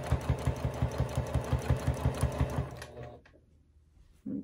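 A domestic sewing machine stitching rapidly during free motion quilting of curved feathers, a close rhythmic mechanical chatter that runs evenly, then stops and leaves near quiet before a brief final thump.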